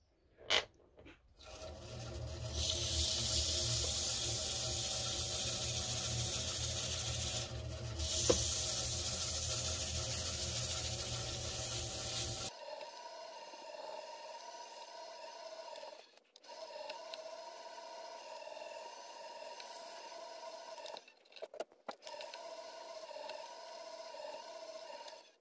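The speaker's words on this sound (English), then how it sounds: "Got it back on the lathe. Just gonna sand it back with some 240 grit." An ash bowl spinning on a lathe is sanded with 240 grit sandpaper, giving a loud, steady hiss and rasp for about ten seconds, followed by a quieter hum from the lathe with a few light taps.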